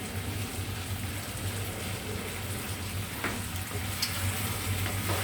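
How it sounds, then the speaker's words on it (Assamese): Chicken pieces frying in oil with papaya and curry leaves in an Assamese home kitchen, a steady close sizzle and bubbling hiss throughout with a few faint scrapes, no talking. "আৰু 5 মিনিট সময় মই এনেকৈ ভাজি ল'ম।"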